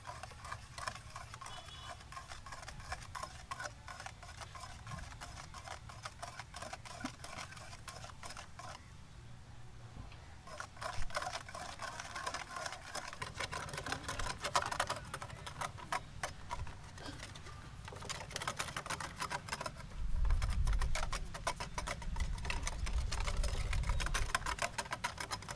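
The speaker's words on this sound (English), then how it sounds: "Let's mix it using a whisk until everything is incorporated well into each other." A whisk stirs a sauce with lime juice in a bowl, producing a long run of fast, light ticking and clinking strokes, steady and moderately close, with brief pauses and heavier scraping toward the end.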